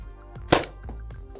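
A Nerf Rival McCree blaster's slide is pushed forward, closing the drum into place, giving one sharp plastic clack with a few softer clicks around it.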